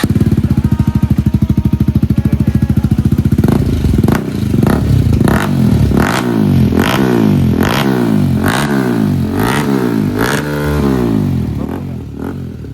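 A KTM Duke 250 motorcycle with a loud aftermarket exhaust idles with a rapid, throbbing thump, then is revved hard again and again, its nearby engine rising and falling in loud, rasping bursts.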